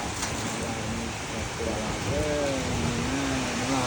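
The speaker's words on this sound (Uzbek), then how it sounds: "Bu yomg'ir emas, bu jala bu." Heavy rain pours down in a steady, dense hiss that fills the whole scene, with a person talking over the downpour partway through.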